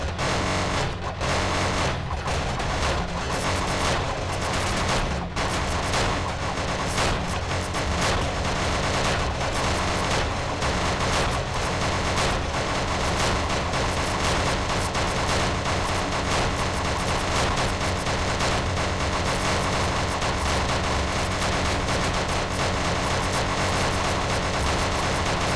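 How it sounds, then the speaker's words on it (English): Laser weapon in the alpha build of the video game Some Assembly Required firing in rapid double shots, a dense continuous barrage of sharp zaps over steady noise with no speech. "I'm pressing laser and getting double shot."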